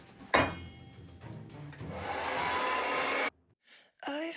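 A hair dryer blows across wet acrylic paint in a pour, a close rushing whoosh building steadily for a few seconds, cutting off, then briefly starting again.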